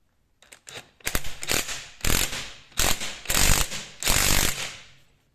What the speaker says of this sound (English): I'd rather use the puller and pull off this again.